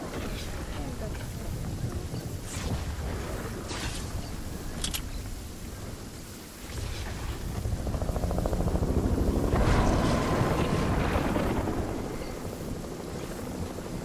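A helicopter in the Fortnite video game makes a steady rotor drone and rumble throughout and swells louder in the second half, under a voice speaking over it.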